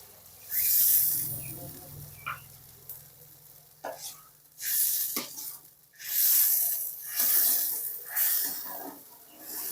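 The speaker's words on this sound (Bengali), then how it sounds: "এক থেকে দেড়শো গ্রাম মতো আবার জল দেবো" Water poured into a hot cooking pan for Bengali fish curry: bursts of loud hissing sizzle that swell and fade in several waves, close up, with some quiet stirring between them.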